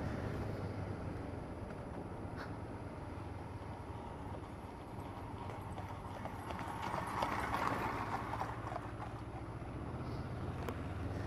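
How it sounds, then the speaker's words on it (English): Horses' hooves clip-clop in a steady rhythm at moderate distance, continuing throughout over a low, rumbling background. "Oh, more horses."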